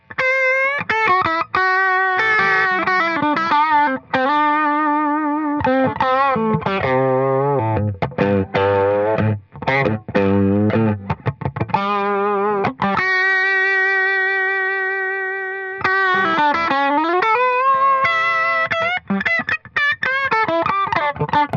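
An electric guitar through a VP4 vibrato preset with light drive plays wavering, warbling notes with a gritty overdriven tone, phrases separated by brief pauses, loud and close with no voices.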